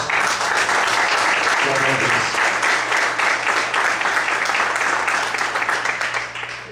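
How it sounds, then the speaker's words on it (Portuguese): A church congregation applauds loudly and steadily for nearly seven seconds, a dense, sustained wash of clapping with a low hum and faint voices mixed underneath. "Pode aplaudir o Senhor bem forte."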